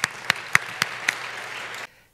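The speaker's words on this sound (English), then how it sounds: "So big round of applause for that." An audience at a startup launch festival claps together, with about five loud sharp claps standing out at regular intervals over a steady wash of applause that cuts off abruptly.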